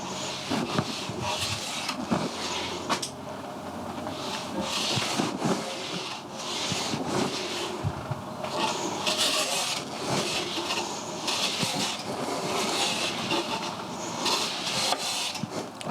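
Hand plane set for the finest feather shavings, drawn repeatedly across a wooden board in a series of soft rasping strokes with brief pauses between passes, close by and moderately quiet.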